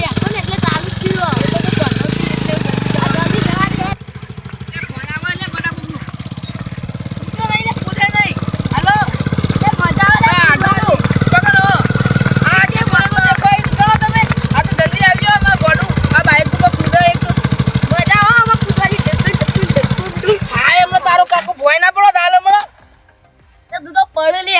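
A motorcycle engine keeps running after being started, a steady close rumble under continuous talking, which cuts off near the end.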